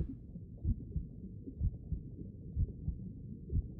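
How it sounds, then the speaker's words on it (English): A slow, steady heartbeat in a kids' game, low muffled thumps repeating at an even pace, soft and alone under a faint hum. "Do I hear a heartbeat?"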